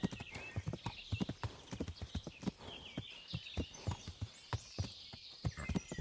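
A horse in the Kingdom Come: Deliverance video game gallops with rapid, rhythmic hoofbeats, fairly close and quiet, with faint ambient tones behind and no talking.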